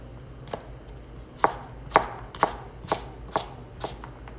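A knife chops green and red bell pepper on a cutting board in a steady run of about eight crisp, evenly spaced cuts, close and clear with no talking.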